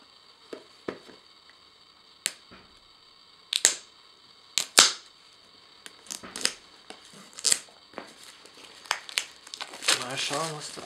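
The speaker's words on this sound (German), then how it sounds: "So, dann werde ich jetzt mal euch mal für euch dieses TP-Link hier auspacken." A TP-Link TL-MR3040 3G/4G wireless router box is unpacked with sharp cardboard snaps, clicks and crinkling plastic in scattered bursts, close and fairly quiet against a steady background hum.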